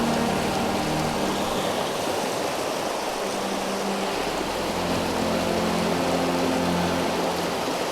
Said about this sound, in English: Love the sound of running water, though.